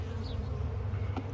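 Honeybees swarm around an open hive during a yard inspection, a dense low buzz holding steady throughout, close and continuous, with a faint higher whine drifting past.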